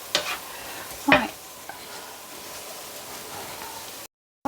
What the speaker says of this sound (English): Butter's sizzling away nicely now